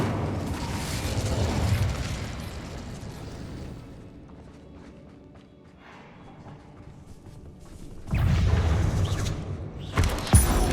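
Incendio fire spell cast in Hogwarts Legacy: a burst of deep booming, crackling fire that fades into a quieter rumble, then flares again with renewed heavy blasts near the end.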